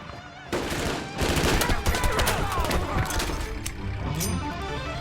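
Dense, rapid gunfire bursts as a film sound effect in a battle scene with armed clansmen in tall grass, loud and continuous with overlapping shots and rumble.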